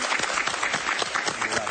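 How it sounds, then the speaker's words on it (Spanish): An audience on a television show applauds, a dense, steady wash of hand claps filling the brief moment, with a voice faintly present beneath. "Un aplauso para ella"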